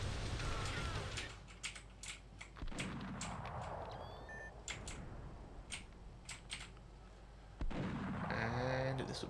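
Artillery cannon fire in the shooter video game Fire Warrior: sharp, close blasts crack out one after another over a noisy battlefield backdrop, with a louder burst late in the sequence.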